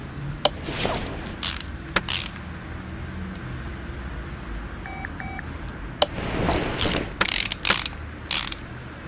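Ratcheting and mechanical clicks from installing a shock absorber on a Specter Fastback in Car Mechanic Simulator, with bursts of rapid ratchet strokes at the start and end, a quieter stretch between, and a couple of short electronic beeps.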